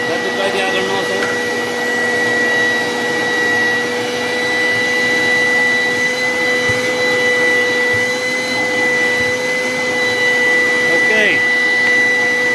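A Makute 2-in-1 blower/vacuum runs steadily with its alternate nozzle fitted, a loud continuous motor whine with a high tonal hum holding for the whole stretch, close by and without talk.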